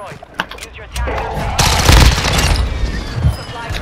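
Rapid automatic gunfire in Call of Duty: Modern Warfare II bursts out loud and close, with a dense barrage of shots and someone talking over the game audio.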